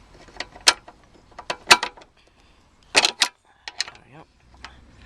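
Ratchet with a 3/8 inch socket working bolts loose on a Briggs and Stratton lawnmower, giving several short, sharp metallic clicking bursts in clusters, close by, with quiet gaps between them.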